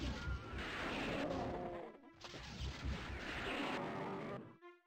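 The BFG 9000 in the original Doom fires with a heavy crashing blast, followed by a second explosive burst, each swelling and rumbling before trailing off into a fading, ringing tail.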